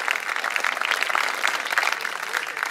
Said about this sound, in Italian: Artisti, un forte applauso, sono veramente strepitose